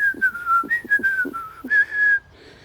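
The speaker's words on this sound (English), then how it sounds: "The roly-poly bird hides in the tree next door, whistling." A person whistles a short, lively tune, with quick pitched notes and a few breathy accents, close by and alone.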